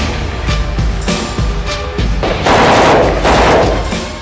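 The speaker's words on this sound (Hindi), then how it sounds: "इस हाईटेक ऑटोमेटिक असॉल्ट राइफल से बिजली की रफ्तार में दनादन निकलती गोलियां किसी के भी होश उड़ाने के लिए काफी हैं" Rapid automatic gunfire from an AK-203 assault rifle, a dense, loud run of shots with heavier sustained bursts in the second half, no talk over it.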